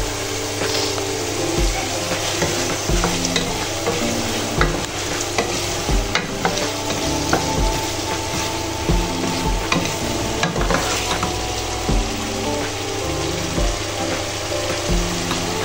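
Medium-sized potato pieces sautéing in a pan for rice, a steady loud sizzle broken by repeated spatula scrapes and knocks against the metal, close up with no talking.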